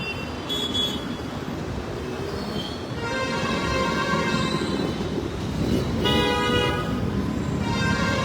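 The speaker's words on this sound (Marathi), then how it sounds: "ह्याच खातीर कितलो ट्रॅफिक जॅम जाता तो पळया तुम्ही." Vehicle horns honk in a road traffic jam in Goa on a badly damaged road, several sustained horn blasts rising over a steady, dense rumble of engines and traffic noise.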